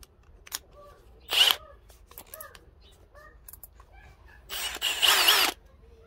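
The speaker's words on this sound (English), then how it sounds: "let's give the old Dewalt Professional spade bits a try and see if they're any better" A Dewalt Professional spade bit bores into wood in two short, loud power-drill bursts separated by quieter clicks and handling noise, close up.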